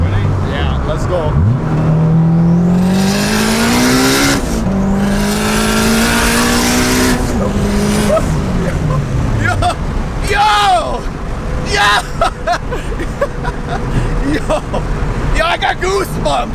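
Turbocharged 1992 Honda Civic SiR with a K-series engine and GT35R turbo accelerating hard, engine pitch climbing through gears with shift breaks, heard loudly from inside the car amid road and wind noise and excited voices.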